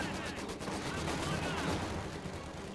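Machine gun fire in the Company of Heroes 2 strategy game, British against Wehrmacht forces, crackling as a dense, steady wash of distant gunfire and battle noise for the whole stretch.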